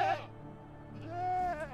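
A goat bleats in the video game Medieval Dynasty, a short cry followed by a longer wavering bleat, close and moderately loud over a faint low background hum.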